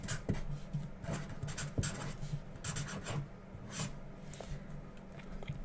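Pen or marker scratching across a writing surface while a probability formula is written out, steady rubbing strokes with small taps, close and quiet, no talking.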